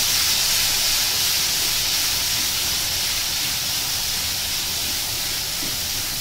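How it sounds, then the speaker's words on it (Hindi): Mustard seeds, cumin and chilli crackle and sizzle in hot oil as a tempering for sev puri gravy, a steady loud hiss with no pauses and no talk over it. "अब ये हम छौंका लगा रहे हैं"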